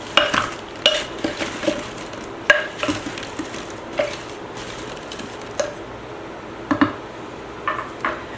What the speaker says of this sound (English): I'm going to stir this up again.